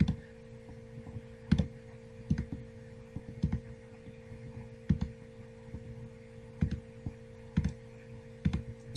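A computer mouse clicking while selecting in photo editing software, heard as a string of faint, sharp clicks at uneven intervals over a low electrical hum.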